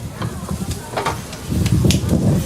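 Fresh garlic sizzling in a hot pan while being stirred, a steady low crackle with scraping strokes of the spoon, growing louder in the second half.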